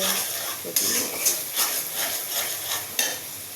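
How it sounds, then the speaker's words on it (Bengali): Onions fry in a hot pan while being stirred until brown, giving a continuous close sizzle with periodic scraping strokes and a few sharper clicks of the spoon against the pan, no voice. "পেঁয়াজটা সুন্দর করে ধরে নিচ্ছি নিয়ে নিচ্ছি বাদামি কালার হলে"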